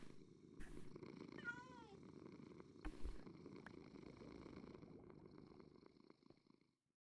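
A cat in the video game Minecraft purrs steadily and softly for several seconds, with a short wavering call in the middle and a few sharp interface clicks, before fading out.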